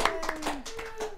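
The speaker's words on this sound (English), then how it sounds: "Give a warm round of applause to Mr. Luke Davids." Scattered hand claps from a small group during a live stream show, a few sharp distinct claps close by in an uneven rhythm, brief and moderately loud.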